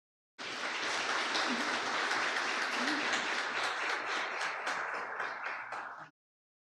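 A church congregation at a worship service bursts into applause, a dense, even burst of clapping that starts abruptly, holds for about six seconds and then cuts off sharply.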